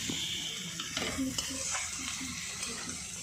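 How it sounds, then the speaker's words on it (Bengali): Snake gourd and shrimp fry in a pan for a home lunch, giving a soft, steady sizzle with faint stirring scrapes. It sounds fairly quiet and even throughout. "ভাজা হচ্ছে"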